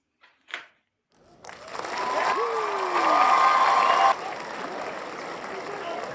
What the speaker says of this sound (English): Abbreviated claps this week